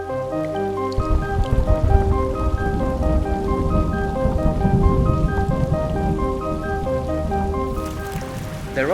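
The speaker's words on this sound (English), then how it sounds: "it is raining outside right now" Rain pattering steadily close by, with a sustained tonal hum running underneath and a brief louder swell near the end.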